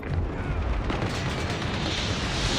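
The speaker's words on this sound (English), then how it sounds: "Sentry gun deployed." An automated sentry gun fires in Call of Duty Mobile during a hardpoint match, a dense, loud, continuous stream of rapid gunfire blending with other battle noise, close and unbroken throughout.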